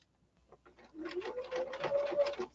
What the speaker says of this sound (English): I'm sewing right up to my pin